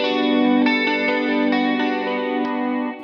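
A Jazzmaster electric guitar on the bridge pickup rings out with bright, sustained chords, picked a few times in steady succession with a slightly shimmering effect.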